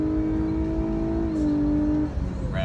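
A 2018 Lexus LC500h on the Circuit of the Americas F1 track revs steadily in a sustained engine drone from inside the cabin, holding pitch, then easing and dipping briefly near the end.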